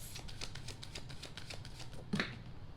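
A deck of tarot cards shuffled by hand: a quick run of soft, even riffling flicks, close and quiet, ending in a brief louder snap as the cards settle together.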